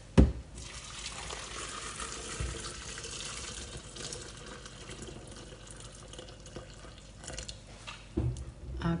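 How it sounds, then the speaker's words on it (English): Hot water pours steadily from a kettle into a soup pot, a continuous splashing stream with a few clunks at the start and end. "I'm just going to top it up with a kettle full of hot water"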